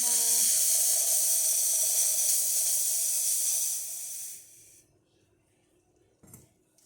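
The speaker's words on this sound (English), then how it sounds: "There's steam. Let's do the steam" A La Pavoni espresso machine steam wand blasts a loud, steady hiss for about four seconds, then tapers off into near silence, followed by a brief soft knock.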